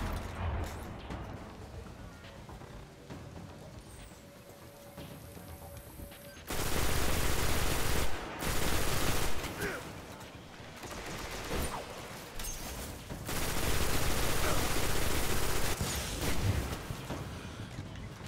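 Bursts of automatic gunfire and explosions fill a Destiny Nightfall strike, with a quieter stretch followed by loud, sustained volleys that come and go through the rest of the fight.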